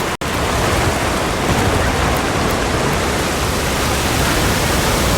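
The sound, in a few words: heavy rain downpour in video game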